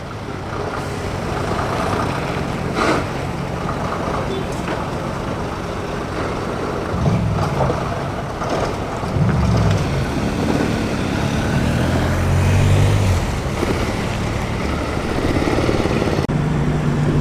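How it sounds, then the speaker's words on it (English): A classic Scammell heavy recovery lorry pulls away from a roundabout, a steady loud diesel drone with low engine rumble building as it accelerates, amid ongoing traffic at a classic lorry road run. "Another Scammell coming in off the roundabout. Heavy recovery vehicle, this one."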